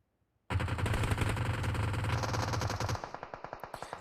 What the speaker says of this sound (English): So a bunch of shots coming out from Divine over here.